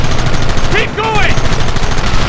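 Gunfire in the video game Red Dead Redemption, a loud, dense and continuous rattle of shots with a voice briefly shouting over it.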